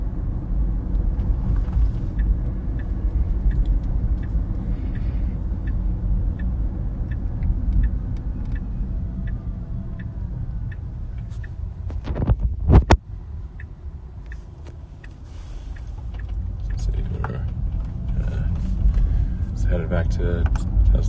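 Cabin rumble of a Tesla driving on Full Self-Driving through Palo Alto, a steady low road drone with a sharp knock midway, running under ongoing conversation.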